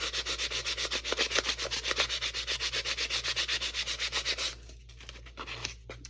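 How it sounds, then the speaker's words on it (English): Sandpaper rubs the tip of a carved wooden stick tool in quick, even back-and-forth strokes, about five per second, close and steady, then softens into lighter, irregular rubbing for the last second or so. "I'm mostly only going to sand the tip down here where I'll be carving and using part of it as my drawing end"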